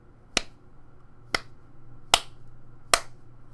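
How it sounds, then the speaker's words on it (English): Hands clap four times into a microphone in a quiet room, each clap a sharp, close, isolated crack spaced roughly a second apart over a low electrical hum. "if you clap your hands in certain ways with a very high pitch tone"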